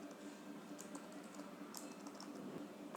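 Quiet typing on a computer keyboard at a terminal, a soft, steady patter of keystrokes with a few sharper clicks, close by and without any voices.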